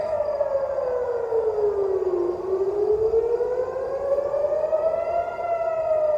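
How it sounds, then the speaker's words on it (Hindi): An air raid siren wails alone in Ashkelon, Israel, its tone sliding down, then slowly rising again in a long sweeping cycle. "ये सायरन की आवाज भी आप सुन रहे हैं"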